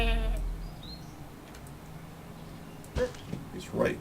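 A goat bleats in the video game A Story About My Uncle, a short nasal cry at the very start, followed by near-silence and then a few brief knocks and a voice.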